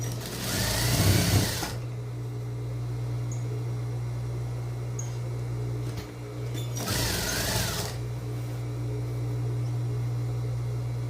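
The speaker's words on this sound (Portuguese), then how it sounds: "Você overloca ou faz zigue-zague." A sewing machine runs two short bursts of overlock or zigzag stitching on a vest, each a rapid mechanical whir, over a constant low electrical hum and quiet pauses.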